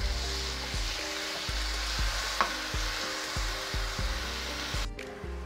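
Ground turkey and chopped veggies frying in a pan, a steady close sizzle broken by repeated scrapes and knocks of a utensil stirring the mix.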